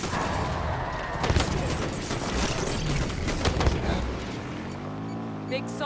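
Dense video-game gunfire in a fight against attacking Prometheans, a loud continuous crackle of shots and blasts with a few sharper bursts, ending in a fading electronic tone.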